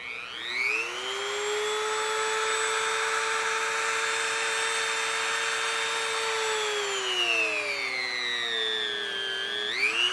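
A Dremel rotary tool spins a neodymium sphere seated on a wooden golf tee, giving a loud, steady high-pitched whine that slowly drops in pitch near the end and then briefly rises again.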